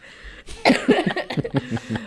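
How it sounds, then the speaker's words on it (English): A burst of coughing close by, several rough hacks in quick succession after a brief quiet moment. "I start coughing."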